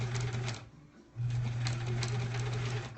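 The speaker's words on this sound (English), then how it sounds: "let's sew this in a straight line." A sewing machine stitches a quilt block in a straight line, a steady close whir that runs for half a second, pauses briefly, then resumes and holds until the end.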